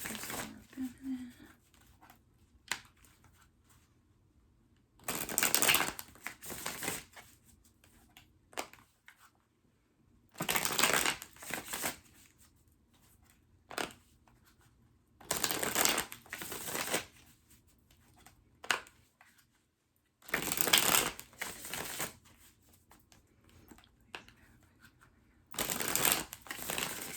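A tarot deck is shuffled and cut in repeated bursts of riffling and crisp card slaps. The bursts are spaced by quieter stretches with soft talk, close and clear.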